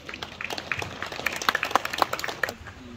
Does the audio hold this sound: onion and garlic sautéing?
no